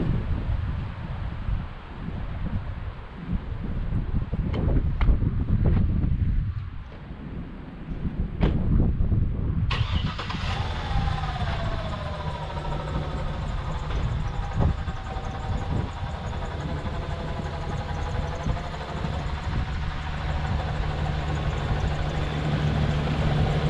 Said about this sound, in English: now trick is just getting the truck out of here without getting stuck